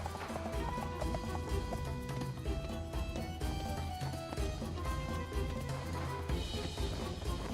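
A horse running laps, its hooves clip-clopping in a fast steady rhythm under a busy layer of background music, moderately loud and continuous.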